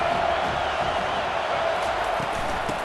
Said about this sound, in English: Crowd will blow out a vocal cord to help this defense.